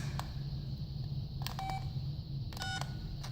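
Keypad beeps from a Motorola MicroTAC flip phone as function-key combinations are pressed: a short single tone, then two brief bursts of quick tones, clear and close over a low background hum.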